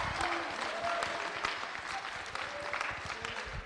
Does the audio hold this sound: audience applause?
yes